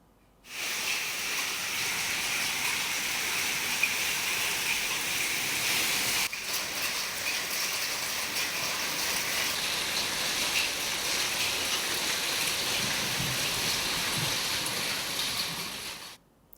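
Unseasonal rain in Kolhapur district, falling with stormy winds and hail, makes a steady, loud, dense hiss that continues unbroken from start to finish with no voices.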